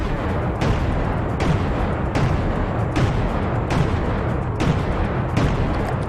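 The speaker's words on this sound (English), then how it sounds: "300mm anti-aircraft gun onto the carrier. Actually, two of them, double-barreled even." Twin double-barreled 300mm anti-aircraft guns on a drone carrier in From the Depths fire alternately, producing a steady rhythm of about eight heavy booms spaced under a second apart over a continuous low rumble.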